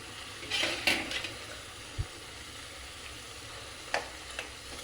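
Taro and potatoes get stirred in a pan of spiced curry, giving a soft, quiet sizzle with a few scraping knocks of a spoon against the pan.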